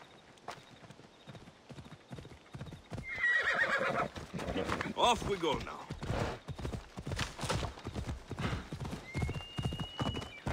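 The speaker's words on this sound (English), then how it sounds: "Get over here, horse." A horse in Assassin's Creed Odyssey gallops with steady rapid hoof clip-clops, loud and close, and gives a neigh, while someone talks over the game sounds.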